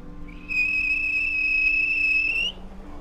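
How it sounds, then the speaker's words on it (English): A railway guard's whistle shrills once, a steady high tone held for about two seconds, loud and clear above a faint background hum. "The guard blew his whistle."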